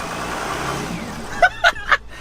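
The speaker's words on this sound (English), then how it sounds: "I can hear the turbo actually doing something for once" A Mercedes E350 engine revs briefly, then three short, sharp bursts of turbo whistle and whoosh follow in close succession, loud and near with no talk over them.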